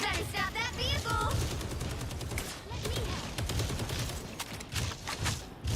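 Rapid bursts of video game gunfire, with fusillades and machine-gun rattle sounding close and loud. Voices are mixed in with the shooting.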